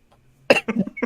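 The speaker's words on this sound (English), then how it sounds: "I coughed." One sharp, close cough bursts out, followed by a couple of shorter rough coughing exhalations in quick succession, all within about half a second.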